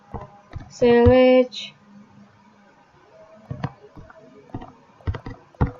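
Sparse clicks of a computer keyboard as a SQL query is typed, scattered keystrokes with pauses, close and fairly quiet, along with a short tonal beep near the start.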